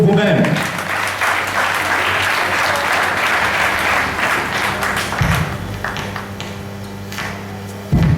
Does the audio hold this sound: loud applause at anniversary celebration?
yes